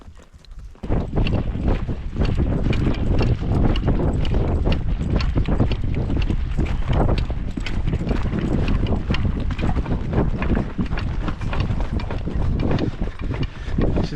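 A mule carries a rider along a high-country trail in Washington, its hooves clip-clopping steadily at close range beneath continuous wind buffeting the microphone, with no break in the rhythm.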